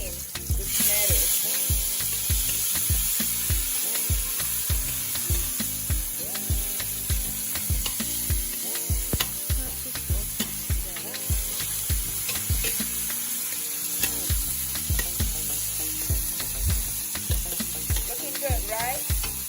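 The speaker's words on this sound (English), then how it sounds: "I will drop in the tomatoes" Tomatoes dropped into a hot pan for a red snapper and yam dish fry with a loud, steady sizzle that runs the whole time, with frequent stirring scrapes and clatter close by.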